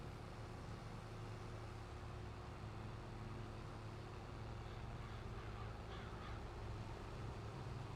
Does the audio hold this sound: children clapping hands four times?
no